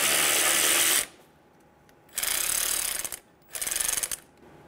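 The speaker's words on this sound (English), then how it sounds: "Using a 10 millimeter socket, remove the bolt for the coolant reservoir." A ratchet wrench with a 10 mm socket loosening the coolant reservoir bolt on a 2000-2007 Ford Focus 2.0L engine, heard as three bursts of rapid clicking separated by short pauses, close and fairly quiet, with no talk.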